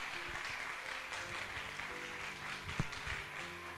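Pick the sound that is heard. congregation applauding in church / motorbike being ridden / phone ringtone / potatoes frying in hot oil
congregation applauding in church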